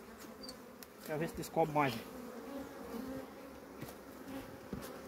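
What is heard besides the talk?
bees buzzing at a nest in a rock crevice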